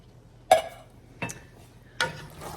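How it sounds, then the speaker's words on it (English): A spoon stirring a can of beans into pasta in a pot, three distinct scraping clinks spaced about a second apart, close and fairly quiet. "we are gonna stir in the can of beans"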